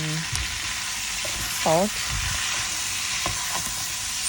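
Shrimp sauté in a pan with a continuous bright, crackling sizzle, close and loud, with a few utensil taps and a short spoken word over it.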